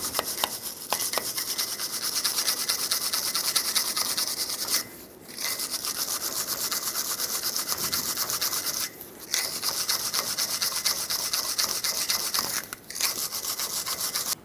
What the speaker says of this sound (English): So I'm going to clean up all that rust with a wire brush.